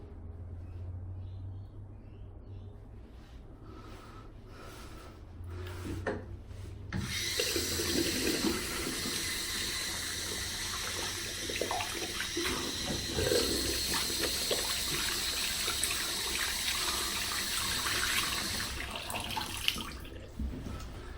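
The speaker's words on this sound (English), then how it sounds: "Soap and water barely get the oil off your fingers though" Water runs from a sink tap while oily hands are washed with soap, a steady splashing stream that starts after a few quieter seconds of handling and continues close to the microphone.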